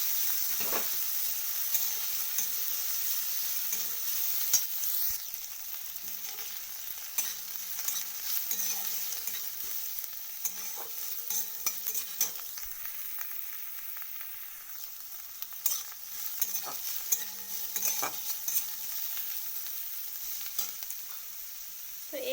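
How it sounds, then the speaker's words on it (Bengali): Onion and garlic fry in a pan for a potato dish, a steady close sizzle running throughout with occasional scraping stirs and utensil clinks, no talking. "এগুলোকে আমি ভালো করে লাল লাল করে ভেজে নেব পেঁয়াজ আর রসুনটা"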